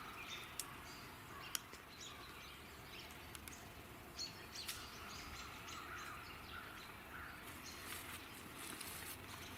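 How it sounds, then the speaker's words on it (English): Faint scattered chirps and tweets of robins in a woodland, brief calls spread over a steady hushed background with no voices. "This area of the woods seems to be a favorite hangout for robins."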